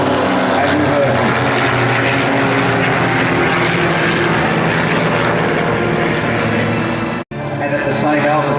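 A propeller aircraft flying aerobatics at an airshow, rolling inverted low over the runway, its engine a loud steady drone throughout with a brief dropout near the end, and an announcer speaking over it.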